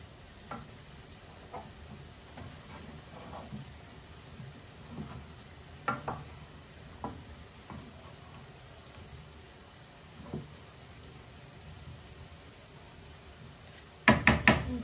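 Spices fry quietly in a pan under a soft continuous sizzle, with scattered scrapes and knocks of stirring, and a burst of louder clatter near the end.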